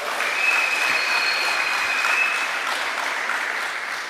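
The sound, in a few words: audience applause for speakers at political meeting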